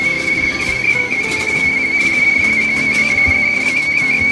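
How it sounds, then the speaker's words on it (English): An old kettle whistles on an Asian wok cooker, a single steady high-pitched tone held unbroken from start to end over a low rumble of burner and background noise. "Got the old kettle going on the Asian wok cooker."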